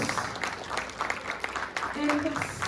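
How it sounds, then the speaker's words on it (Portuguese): Church congregation applauding during a Christmas service, a broad steady wash of clapping that swells slightly toward the end, with a voice speaking over it. "Aplauda ao Senhor."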